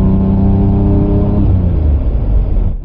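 A Porsche 911 engine building revs under gentle acceleration: a loud, close, throaty exhaust drone with rising harmonic tones that swells and then cuts off, with no speech.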